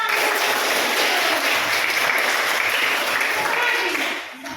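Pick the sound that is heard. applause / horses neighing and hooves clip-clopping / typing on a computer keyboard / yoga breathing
applause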